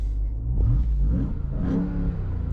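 A Ram TRX pickup truck engine revs up under load, a steady low rumble with rising whine, close and loud throughout.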